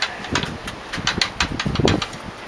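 The engine of a 1914 Dodge Brothers T-bucket roadster runs close up during a test start, with an uneven, lumpy chugging and irregular firing pulses.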